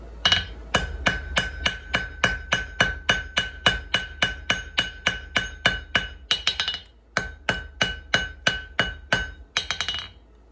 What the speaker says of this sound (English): Just using the corner die of the anvil as a bit of a fuller. Pushing material away.